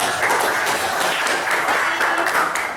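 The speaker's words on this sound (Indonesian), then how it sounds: "Tepuk tangan buat Mbak Zara." A classroom of students applauds a classmate after her presentation in an Indonesian-language lesson: a dense, steady patter of many hands clapping at once, held at an even level for a few seconds with no talk over it.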